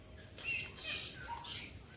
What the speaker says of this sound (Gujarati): આપણા દેશી પોપટ જો, સુડો પોપટ.